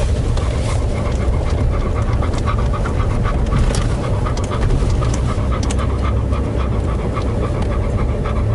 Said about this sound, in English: Excuse Bella's panting, as always.